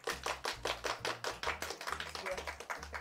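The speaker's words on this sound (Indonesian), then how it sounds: "Sekarang kita akan dengar tepuk tangannya." Clapping from a small group on a cooking competition show, a fairly steady burst of hand claps that is quite faint, with a low hum running underneath.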